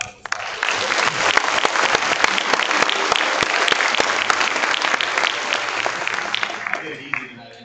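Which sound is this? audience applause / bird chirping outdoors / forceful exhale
audience applause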